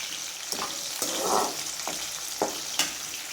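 Shallots sauté in a pan toward golden brown, a steady close sizzle broken by several sharp scrapes and stirs of a spatula.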